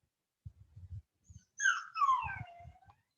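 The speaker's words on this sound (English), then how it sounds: "You can probably hear my dog in the background." A dog whimpers nearby in a few high, drawn-out whining cries, preceded and followed by soft low snuffling and shuffling sounds.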